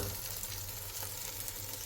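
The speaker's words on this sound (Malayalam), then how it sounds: "ഇട്ട് കൊടുത്ത് നല്ലപോലെ യോജിപ്പിക്കുക" Spices and a chicken masala mixture stirred in a frying pan, a continuous soft sizzle with faint scraping from the stirring, quiet and close with no talk.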